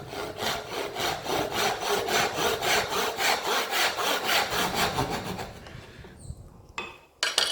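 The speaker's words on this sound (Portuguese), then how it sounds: "Eu aqui usei um serrote um pouquinho mais delicado para fazer esse corte." A fine handsaw cuts through wood in steady, rhythmic back-and-forth strokes, close and crisp, about three strokes per second, slowing and stopping near the end with a few light knocks.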